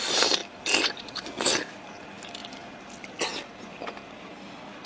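Northeast Chinese blood sausage being bitten and chewed up close, with several wet crunchy bites and chewing bursts spread across the moment, no talk.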